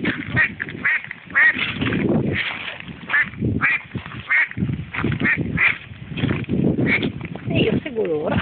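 Ducklings quack and peep in a steady, busy stream as they follow along, close by, mixed with ongoing talk from people nearby.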